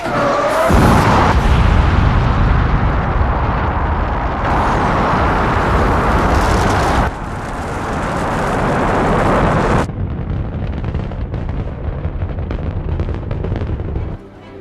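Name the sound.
Apollo rocket engines igniting at launch after countdown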